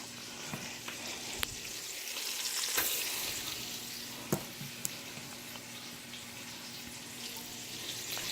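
Onions frying in a hot Dutch oven, a steady moderate sizzle with occasional sharp clicks and clinks of a utensil against the pot.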